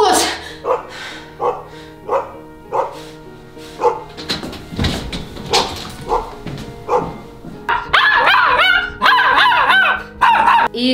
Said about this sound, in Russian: И собака начинает очень громко лаять.